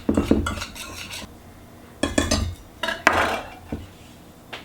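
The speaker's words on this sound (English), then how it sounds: "It's easier on my muscles to whisk than it is to shake that jar." Dry soup mix being whisked in a bowl, quick rhythmic clattering bursts of a metal whisk against the bowl in several short runs separated by pauses, close and clear.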